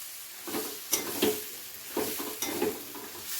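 Cabbage curry being stirred in a pan, several quick scraping strokes over a gentle sizzle, heard up close without talk.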